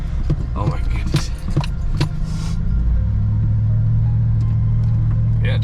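A 2021 Chevy Trail Boss truck drives off road, its engine a steady low rumble with some clunks and rattles early on, settling into a continuous droning hum; a voice talks briefly over it at the start.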